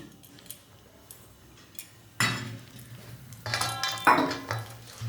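Semolina batter for soft malpua being mixed with flour in a bowl, giving scattered scraping and clinking knocks of a utensil against the bowl, louder bursts in the second half, with no talking.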